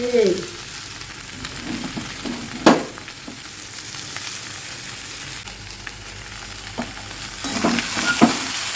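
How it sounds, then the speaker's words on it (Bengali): Fish head stirred into fried spices in a warping kadai, with a steady sizzle and scraping stirs; the sizzle swells sharply a few times as the pieces are turned. "মাছের মাথা দিয়ে দিচ্ছি। এখন মশলার সঙ্গে মিশিয়ে নেব।"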